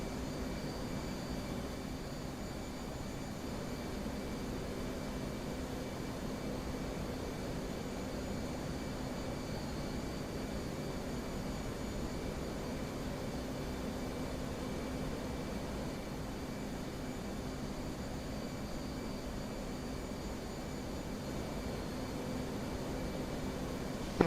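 Steady, continuous jet engine roar from an FA-18 in the DCS flight simulator, throttled back during a night descent, a broad even drone with no talk over it.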